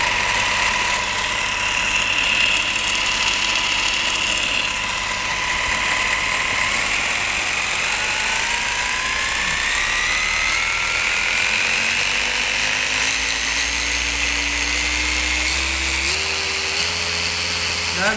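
Small RC adventure car engine running after being oiled, a steady loud mechanical whir with ratcheting, gear-like clatter and shifting whining tones throughout, no talking.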